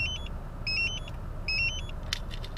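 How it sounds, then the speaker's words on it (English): A car started by a remote starter gives three bursts of bright electronic beeping and a short chirp over a low, steady engine rumble, close by and without speech. "engine starts up properly and stays running"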